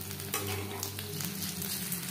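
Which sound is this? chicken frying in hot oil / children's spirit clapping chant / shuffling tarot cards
chicken frying in hot oil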